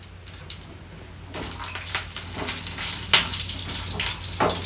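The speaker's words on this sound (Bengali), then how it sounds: "ভাজা হয়ে গেছে বড়িগুলো" Old lentil dumplings (bori) fry in oil in a wok, starting quiet and then breaking into a louder crackling sizzle with several sharp pops and clatters close by.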